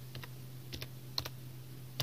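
Clicks on a computer keyboard while entering a command on a Windows PC, a few quiet, separate keystrokes in small pairs and bursts over a steady low hum.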